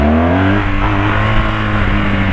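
A motorcycle engine revs hard and loud up close, a dense continuous roar with rising harmonic tones throughout.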